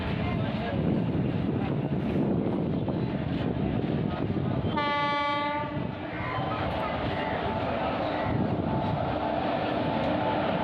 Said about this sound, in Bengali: আরও এক আইসিএফ কোচের ট্রেন।